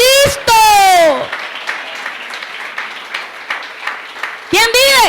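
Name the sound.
congregation applauding in church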